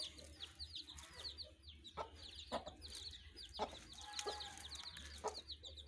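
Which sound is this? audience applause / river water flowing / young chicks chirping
young chicks chirping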